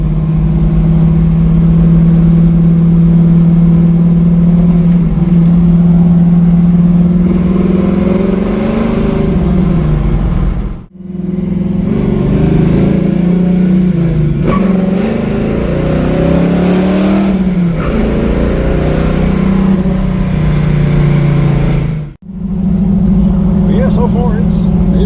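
A Chevrolet Camaro with a reworked carburetor drives along with a steady, loud engine drone that rises and falls as it revs, continuous for the whole stretch apart from two brief dropouts.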